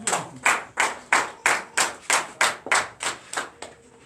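A church congregation at a Sunday worship service claps in unison, about ten sharp, evenly spaced claps in a steady rhythm, close and fairly loud with no talk over them.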